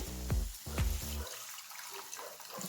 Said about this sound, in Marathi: आपण यात पाणी घालून घेऊ